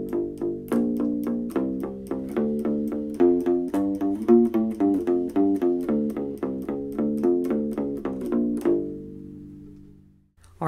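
A U-Bass picked on flatwound strings with alternate picking: a steady run of short, evenly spaced, round low notes, fairly quiet and close, ending on a held note that rings out and fades.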